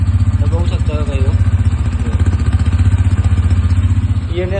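A Bajaj motorcycle idles in a showroom, its engine and silencer exhaust giving a loud, steady, throbbing putter close by, with a voice briefly over it.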